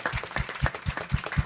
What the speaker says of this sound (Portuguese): Uma salva de palmas aí para a galera